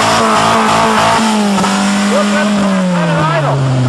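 A car engine revs loudly, its pitch rising and falling steadily, with voices talking over it.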